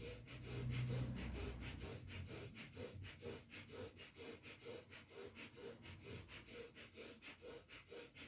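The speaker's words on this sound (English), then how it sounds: "Plus, breath of fire is good for reoxygenating the body, detoxifying the body, giving you an energy boost." Breath of fire yoga breathing, rapid forceful exhales through the nose in a fast even rhythm, close and fairly quiet, continuing steadily after a longer opening breath.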